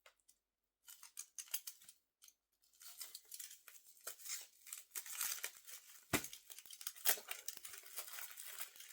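Small case of magazines being opened by hand, packaging crinkling and tearing in irregular bursts close by, with brief pauses and a sharp rip near the end.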